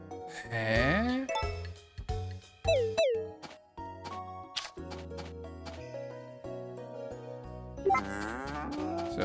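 A cow lows in the farming game Story of Seasons: A Wonderful Life, with a long rising moo at the start and another near the end, set over cheerful in-game music with bright chiming notes.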